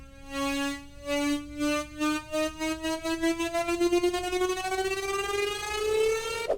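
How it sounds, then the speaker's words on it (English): A big synth riser climbs steadily in pitch, its tone chopped into pulses that speed up before smoothing into a sustained, brightening sweep into the drop. "this is the big riser that leads right into the drop"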